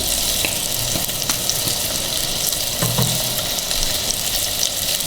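Mutton sizzles and fries in a handi as it is stirred, a steady close hiss of hot fat with occasional scraping clinks from the spoon throughout.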